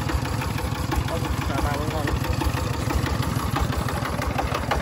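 A Vietnamese two-axle truck's Dong-series 30 diesel engine idles with a loud, close, steady clatter and rapid knocking pulse, with a voice talking over it.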